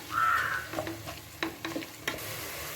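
Mutton sautéing in a pan for nombu kanji, a low sizzle broken by several short stirring scrapes and clatters, with a brief bird-like squeal at the start.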